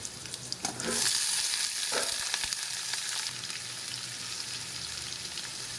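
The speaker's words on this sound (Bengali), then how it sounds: "তেল দিয়ে দিলাম, এটাতে পটলটা ভাজা করব।" Pointed gourd (potol) frying in hot oil with black cumin, a steady close sizzle that swells loud as the pieces go in, with stirring scrapes over a continuous hiss.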